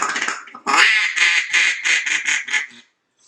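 A loud single-reed duck call blown in a rapid series of about eight raspy quacks, each short and punchy, starting with a longer drawn note and ending abruptly into silence.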